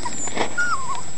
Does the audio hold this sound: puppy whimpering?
yes